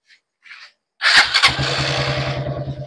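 After two faint clicks, a 155cc motorcycle engine with a charging fault starts with a loud burst and then settles into a steady, rhythmic running putter close by.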